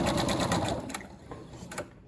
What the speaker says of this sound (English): pressing it together with the other, sewing that 1/4 of an inch seam